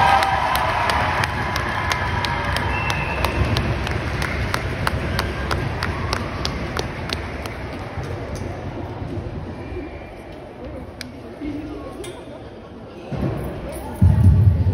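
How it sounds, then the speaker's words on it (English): Audience at a school Christmas concert applauding and cheering, a dense crowd roar with sharp claps throughout, gradually thinning toward the end before a burst of louder sound. "Can we give them one more round of applause?"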